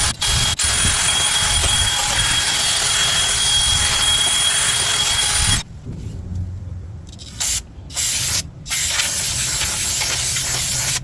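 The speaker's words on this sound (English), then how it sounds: "I'm just going to use my drill and this little wire" A loud, steady high-pitched whirring grind of a drill with a wire brush removing rust during Honda CR-V front brake work runs for several seconds, then stops and restarts in a few short bursts.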